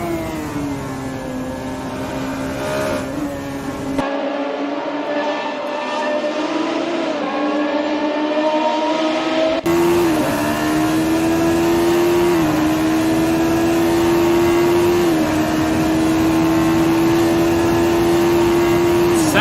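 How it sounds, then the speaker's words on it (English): Race cars at the Caribbean Motor Racing Championship in South Dakota rev hard through the gears, a loud buzzing engine note climbing in pitch, dropping at each shift and climbing again, close and continuous. "You can see the way Sean Lee is shifting the gears, maximizing, revving out every gear in his arsenal"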